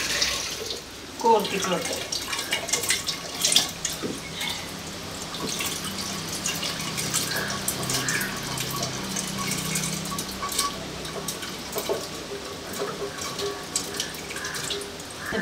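Water pours steadily from a tap into a pot being filled to boil koorka (Chinese potato), a continuous splashing gush that runs throughout while a person talks over it.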